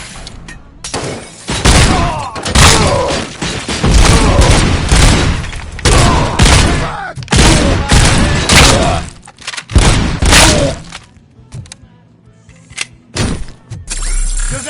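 Rapid bursts of gunfire fill a RoboCop video game firefight, loud and near, with dense volleys and thuds repeating almost continuously before thinning out near the end.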